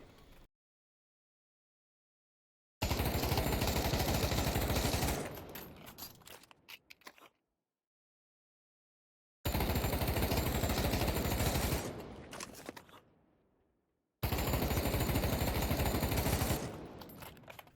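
An M4 rifle in the VR shooter Pavlov firing on full auto, three long loud bursts separated by silence, each trailing off into echoing tails.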